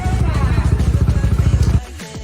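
A motorcycle ridden along a highway, its engine close and loud with a steady pulsing throb that cuts off sharply near the end, leaving a quieter rumble.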